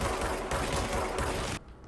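Rapid automatic gunfire in the video game Control, a dense close burst of shots lasting over a second before cutting off abruptly into quieter room tone.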